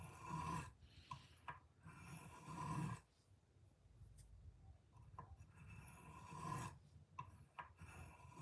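A hand file rasps decorative file work into a Case sodbuster knife, with steady repeated scraping strokes in a rhythmic back-and-forth pattern, close up and fairly quiet, with brief pauses between runs.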